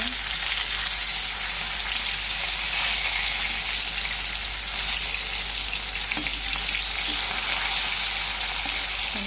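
Flipped fish pieces fry in oil in a kadai, giving a steady close, even sizzle that holds at one level throughout with a few faint taps.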